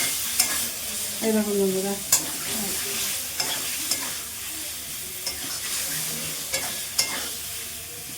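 Spices are stirred and fried in oil in a pan, making a continuous sizzle broken by scrapes and taps of a spoon. Briefly, a voice speaks over the cooking.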